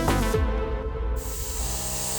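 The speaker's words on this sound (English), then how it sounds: "I then went back to my airbrush and using the model colour paint in the purple, started to add additional highlights to individual bulges and veins" An airbrush sprays purple Model Colour paint onto a model's bulges and veins with a brief close hiss of air, starting after a soft knock and fading within about two seconds.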